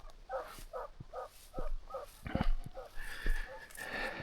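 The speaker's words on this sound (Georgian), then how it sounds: "ის ძაღლიც ამოვიდა დაბლიდან და შემოუერთდა ამათ" Serbian tricolour hounds hunting hare give a run of evenly spaced yelping barks, then a few louder overlapping barks, all carried outdoors at moderate distance.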